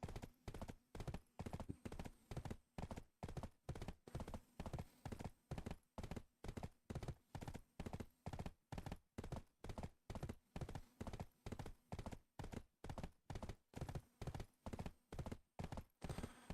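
Horse hooves clip-clop at a quick, regular trot in the Black Desert video game, sharp evenly spaced hoofbeats close up and continuous, with no talking.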